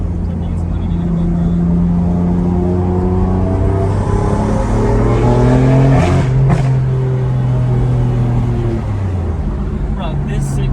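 BMW M4 Heritage Edition with a straight-six engine accelerating hard from inside the car, a loud continuous engine note rising in pitch through gear changes with brief dips at each shift. Occupants talk over it.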